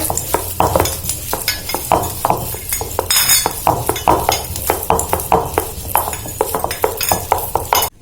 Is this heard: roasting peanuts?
yes